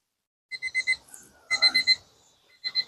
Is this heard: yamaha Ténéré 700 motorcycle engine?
no